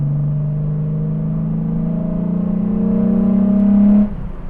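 A VR6 engine in an AWD Golf Cabriolet revs up steadily with a deep, rising growl, holding loud and close for about four seconds before cutting back sharply.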